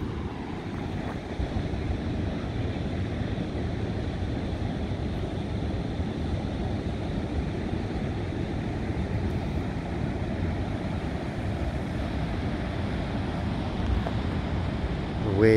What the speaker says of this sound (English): when I see the spray go up into the air as they crash into the rocks, I realize they're actually pretty big waves.